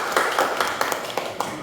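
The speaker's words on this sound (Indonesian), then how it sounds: "Tepuk tangan dulu," Brief clapping from an audience at a school principal's performance observation session, a handful of distinct sharp claps in quick succession rather than a full ovation.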